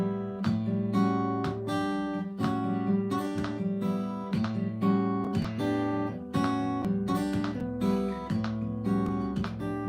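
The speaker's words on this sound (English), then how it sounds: "So you can hear the cymbal washes in the background." Repeated struck chords ring out with a bright, sustained metallic shimmer of cymbal washes played with mallets beneath them, soft washes swelling behind the steady band rhythm.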